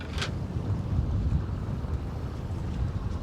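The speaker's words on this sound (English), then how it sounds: "The wind just picked up here on us" Wind gusts buffet a fishing boat out on the water, a low, rumbling roar of wind against the microphone that holds steady and fairly loud, with a brief splash-like hiss near the start.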